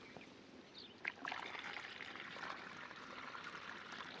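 Liquid chemical pours into a borewell, a steady trickling, streaming flow heard faintly and continuously after a brief knock, with no talking.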